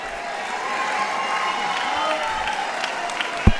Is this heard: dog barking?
no